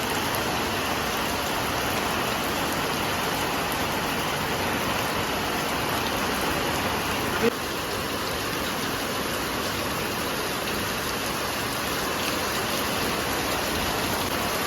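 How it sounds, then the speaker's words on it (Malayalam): Steady heavy rain pours down without pause, a dense even hiss filling the whole stretch. "എന്താ മഴ, അടിപൊളി മഴ."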